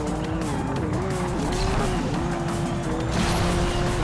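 A loud, broken V12 racing car engine in Asphalt 8 drones steadily with a rough, wavering pitch, continuous and close throughout.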